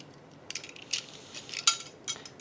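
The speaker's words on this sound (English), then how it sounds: "Then you are going to take the teaspoon measure" A metal teaspoon measure clinks lightly against a bowl and other utensils while ingredients are measured in a kitchen, several short bright taps spaced irregularly, quiet and close.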